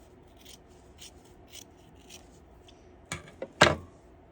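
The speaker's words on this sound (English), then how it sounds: "trim off any extra threads, trim off the back." Scissors trim stray threads off sewn mesh or lace fabric for underwear, a few quick close snips near the end after faint rustling.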